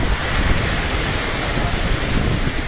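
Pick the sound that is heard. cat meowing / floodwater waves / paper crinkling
floodwater waves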